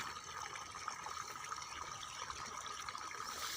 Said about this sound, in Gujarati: ક્યારામાં પણ એક સરખું જ પાણી જાય છે